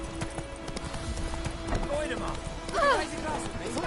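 A horse gallops in The Witcher 3, quick hoofbeats drumming under ambient game sound and a brief whinny-like call, with a voice speaking over it.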